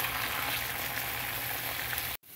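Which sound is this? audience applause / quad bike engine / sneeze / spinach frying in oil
spinach frying in oil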